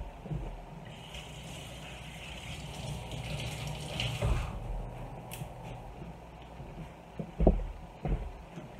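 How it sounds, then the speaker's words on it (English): Hands washed under a running tap in a kitchen, water gushing steadily at a moderate level with a few splashes and knocks near the end. "Let me wash my hands."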